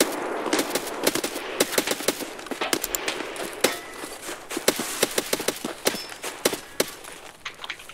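Rapid bursts of gunfire in an online shooter game, sharp cracks firing in quick irregular volleys and single shots across the whole stretch, with some quieter footstep-like thuds between them.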